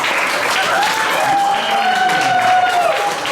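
Audience at a training programme closing ceremony applauding a coach, sustained loud clapping from a crowd with a few cheers and voices mixed in.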